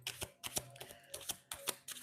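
A deck of tarot cards is shuffled close by, a quick series of crisp riffling flutters and soft slaps repeating in short bursts, fairly quiet and with no talking.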